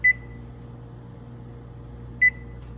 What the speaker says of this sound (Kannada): ಸೊ 15 ಮಿನಿಟ್ಸ್ ಟೈಮರ್ ಆನ್ ಆಯ್ತು.